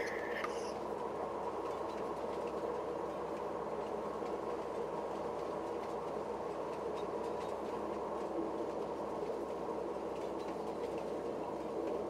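Train ride in Farming Simulator 22, a continuous steady rumble and rolling rail noise with faint clicking, even and unbroken throughout.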